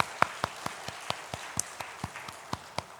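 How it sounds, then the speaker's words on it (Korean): Sparse, distinct hand claps at a church graduation service, about a dozen separate slaps in a loose, irregular rhythm, fairly quiet and without voices. "한 번 더 박수 좀 부탁합니다."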